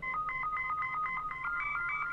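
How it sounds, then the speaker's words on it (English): A synthesizer note, square-wave LFO on oscillator 3 jumping its pitch between two steps, gives a steady trill of alternating high and low tones, about four cycles per second, clear and alone for two seconds. "So that's just an oscillator 3 working as an LFO. It's set to a square wave and it's modulating the pitch up and down."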